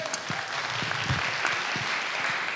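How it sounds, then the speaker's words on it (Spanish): Church congregation applauding during a sermon, steady mixed clapping with a few distinct nearby claps standing out over the crowd. "Dele un aplauso al Señor."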